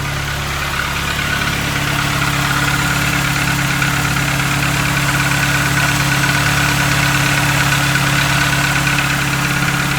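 A Mk3 Volkswagen Jetta engine with a newly installed air intake idles steadily at close range, a constant low rumble with a faint mechanical vibration that holds for the whole stretch.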